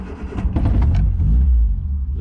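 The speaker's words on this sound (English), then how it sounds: "I'll show you how easy these start." A vintage MG Midget sports car engine cranks and catches, then settles into a steady low idle rumble, close and loud with no talk.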